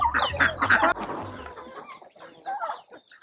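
Farm poultry, including a turkey, clucking and squawking excitedly while being fed, with a burst of close, loud calls early that then thin out to scattered softer clucks.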